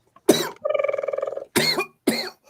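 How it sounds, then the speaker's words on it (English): A person coughs in short, harsh bursts close to the mic, with a rattling throat-clearing drone between them and two more sharp coughs after. "Why are, you coughing?"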